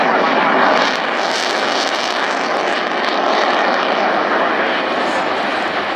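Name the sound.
aircraft flying at a high angle of attack at an airshow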